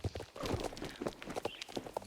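Hoofsteps of an American Saddlebred horse in the game Star Stable Online, a fairly steady run of clip-clop footfalls over a busy game soundscape, moderately close, with no voices.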